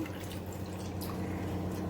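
Water pours in a steady, continuous trickle close by into a pan with rice flour, an even liquid rush with no pauses.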